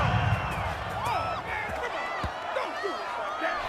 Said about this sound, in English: this crowd does not like that call